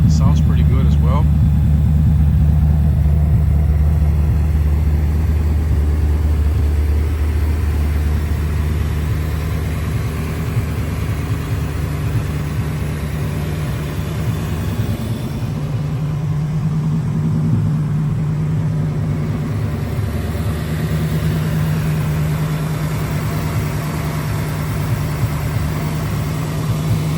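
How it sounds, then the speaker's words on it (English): A 1989 Chevrolet Corvette Convertible engine idles steadily after a cold start, a loud, close, continuous low rumble that holds for the whole stretch, with a voice heard speaking over it. "This is the car running. It runs good."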